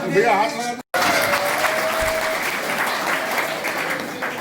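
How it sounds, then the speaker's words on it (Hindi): A crowd claps in welcome at a local gathering, a loud continuous burst of applause following a brief voice and a short cutout, with murmured voices mixed in. "जोरदार ताली से स्वागत कीजिए।"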